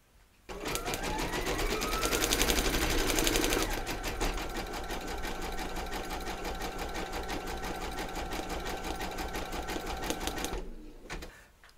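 A large vintage-style embroidery sewing machine stitches steadily, producing a loud, fast, even mechanical whir with rapid needle ticking that runs for about ten seconds before stopping.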